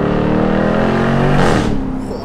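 A Jaguar F-Type R P575 convertible's V8 roars as it revs hard, climbing in pitch to a loud peak before settling back, close and dominant throughout.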